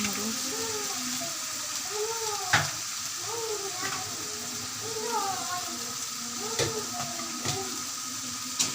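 Noodles frying in a hot pan give a steady, close sizzle with occasional stirring clatters, while a voice talks over the cooking.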